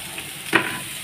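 Cut potatoes hit hot oil in a wok, producing a continuous close sizzle with a brief louder burst in the middle; no voices are heard.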